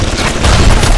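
A gun turret in the video game Bioshock fires a dense, loud burst of rapid booming shots that fill the whole second without a pause.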